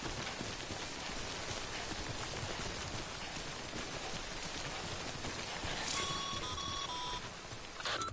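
Steady broadband hiss of timefall rain pouring in the video game Death Stranding, loud and continuous with no talk, joined near the end by a brief run of electronic beeps.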